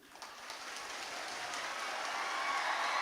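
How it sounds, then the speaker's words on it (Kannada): Students in an audience applaud, a dense wash of clapping that swells steadily louder over a few seconds, heard from a moderate distance. "ಒಂದು ಸಾವಿರ ಚಿಲ್ಲರೆ ಚಪ್ಪಾಳೆ ಬರ್ಬೇಕು"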